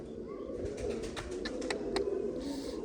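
A pigeon coos softly a few times, low and throaty, against a steady background hum.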